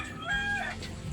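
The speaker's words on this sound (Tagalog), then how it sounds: "manok na naman." A brief, fairly faint rooster crow rising and falling over a steady background hiss.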